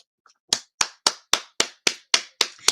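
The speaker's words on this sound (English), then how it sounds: "I'm going to clap before I say anything." Nine crisp hand claps in a steady, even rhythm, close and loud, with no talk around them.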